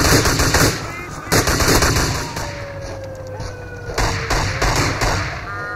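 Gunfire in the video game GTA IV, with loud rapid bursts of automatic fire and heavy thuds tumbling over one another in a close, chaotic fight.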